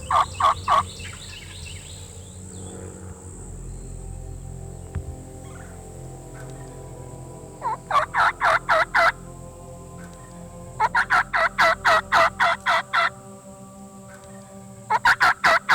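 Wild turkey gobbling in answer to a blown crow call during a Florida spring hunt: repeated rapid bursts of loud, harsh caws in several clusters, with a gobble rolling in between, outdoors over low ambient noise.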